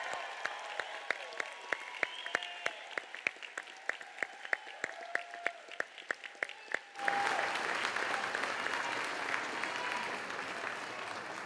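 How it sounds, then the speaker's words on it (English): An audience at a middle school 8th grade moving-on ceremony claps, starting as a few distinct rhythmic claps and swelling into full, sustained applause from a large crowd filling the hall. "Big round of applause for our 8th graders."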